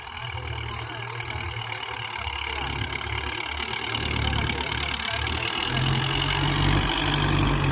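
A tractor engine drones steadily and close while pulling a rotavator through a field, its heavy low rumble straining under load and growing slightly louder toward the end, with no voices.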